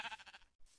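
A single short, wavering sheep bleat from a Minecraft-style survival game ends abruptly in a brief gap before a faint trailing sound, heard close and alone.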